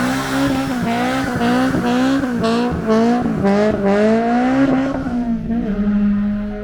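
A Honda Civic EG fitted with a full Spoon exhaust accelerates past nearby, its loud raspy engine note climbing through the revs with rising pitch before fading away at the end.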